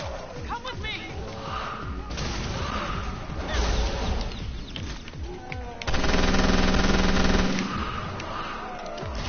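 A video game headshot: clipped, muffled gunfire in short bursts and heavy thumps, with a dense stretch of firing partway through. Voices talk close by over the game sounds.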